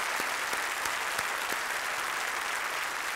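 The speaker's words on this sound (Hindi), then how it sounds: "एक बार फिर तालियों के साथ हम आपका स्वागत करते हैं।" The studio audience of the quiz show Kaun Banega Crorepati, Season 8, applauds to welcome contestants. The clapping is steady and sustained, filling the whole moment with no voices.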